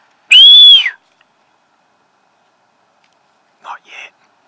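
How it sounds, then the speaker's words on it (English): A single loud, close whistle with a rising-then-falling pitch is blown during a deer hunt, followed by a long silence and two faint, brief murmured sounds. "You want me to give him a whistle?"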